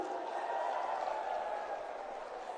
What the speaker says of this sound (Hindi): एक बार मैं तालियां चाहूंगा आपकी तरफ से भी